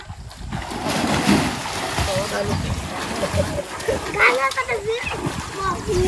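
Water splashes and sloshes as someone plunges in, amid shouting and excited voices nearby.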